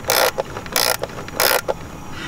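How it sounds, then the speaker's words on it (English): A ratchet with a 13 mm socket tightens a plastic PCV valve on a BMW E90 N54 engine in three close, crisp bursts of quick clicking separated by short pauses. "now I'm gonna grab again the 13 millimeter just to tighten that up all the way"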